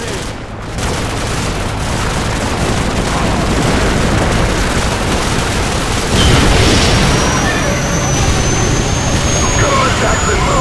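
Video game battle at a bridge: a constant, loud roar of gunfire and explosions, with a deep boom around the middle and voices shouting over the din.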